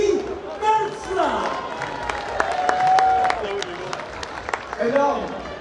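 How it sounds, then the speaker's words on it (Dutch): Crowd applause and cheering at a professional criterium cycling race ceremony in Almelo, mixed with a loud announcer voice over a PA system and scattered claps. "Uw applaus, dames en heren, Nicky Bentra."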